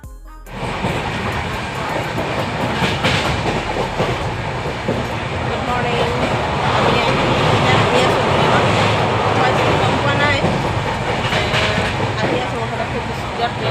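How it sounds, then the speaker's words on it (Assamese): Passenger train rolling past on a journey from Mariani to Nalbari in Assam, a steady loud rumble with rail clatter that swells around the middle and holds near throughout, with people talking over it. "ট্ৰেইন আহি আছে গৈ আছে এয়া"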